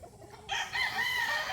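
A rooster crows at a small chicken breeding farm, one clear cock-a-doodle-doo rising after a quiet start and held to the end, fairly faint and distant with no talk.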